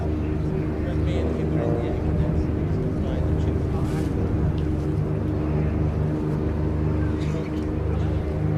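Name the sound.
Xtremeair XA42 aerobatic aircraft engine during display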